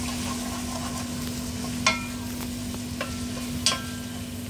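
Tomato goes into a frying pan for stuffed peppers and is stirred, a steady sizzle with a constant hum under it and a few distinct scrapes of the spoon against the pan.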